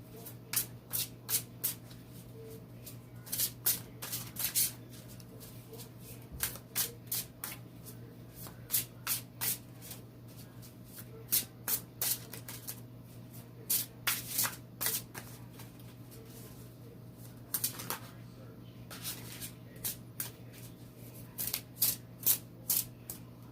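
A new tarot card deck is shuffled repeatedly by hand, producing quick crisp riffles and flutters in short bursts separated by brief pauses, close and fairly quiet over a faint steady electrical hum.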